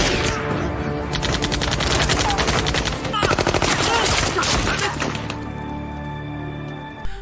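Sniper and automatic gunfire in a film battle as a marksman picks off enemies: dense, loud bursts of rapid shots and cracks, with a brief lull before the firing resumes, over a steady background bed.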